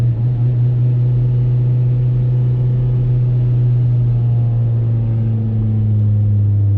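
Exhaust of a Subaru Vivio kei car, base GLI version, idling steadily with a low, even drone and a faint higher tone joining near the end, close and alone with no talk.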